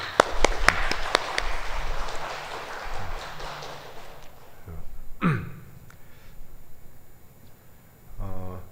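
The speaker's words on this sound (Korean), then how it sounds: "여러분 우리 수고하신 아버지들께 감사 박수 한번 보내드릴까요?" A church congregation at a Sunday service applauding in thanks, a burst of clapping in the opening seconds that fades away, followed by quieter room sounds and brief voices.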